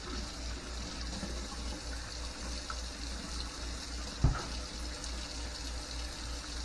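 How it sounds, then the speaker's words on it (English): Water runs steadily from a kitchen tap left open to get hot, a constant close hiss with one brief knock partway through. "Gotta wait for hot water."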